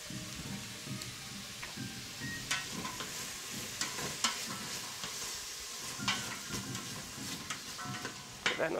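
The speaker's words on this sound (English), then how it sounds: "Give that another stir." Food stirred in a sizzling pan for a hunter's hotpot, with a soft, steady frying hiss and irregular clinks and scrapes of utensil strokes, close but fairly quiet.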